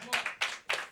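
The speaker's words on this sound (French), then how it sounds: "On peut les applaudir." Audience at a live concert by a band clapping: three short, separate bursts of hand claps, fairly faint and close, within under a second.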